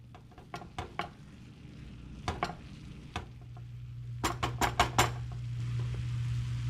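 A spoon clinks and scrapes against a pan in irregular taps and quick bursts as haluski cooks over medium heat, a steady low sizzle running beneath, close-up with no voices.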